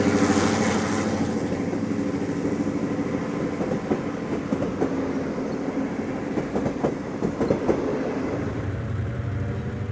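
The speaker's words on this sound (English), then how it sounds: "Milwaukee train number 3, the afternoon Hiawatha, rolls slowly through Deerfield." The Milwaukee Road afternoon Hiawatha passenger train rolls slowly through Deerfield with a steady rumble and rhythmic clickety-clack of wheels over rail joints, close and continuous throughout.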